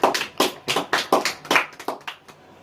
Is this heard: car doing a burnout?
no